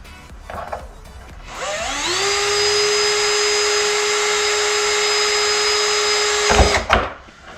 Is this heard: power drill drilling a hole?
yes